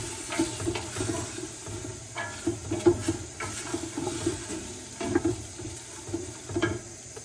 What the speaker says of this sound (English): I'm going to go ahead and get some liquid in here.